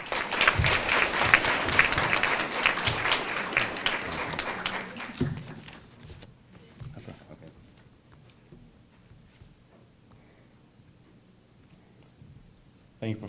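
Audience applause fills a graduation ceremony hall for mathematics department honorees, a loud dense clapping for about five seconds that tapers off into quiet room noise, with a voice starting to speak at the very end.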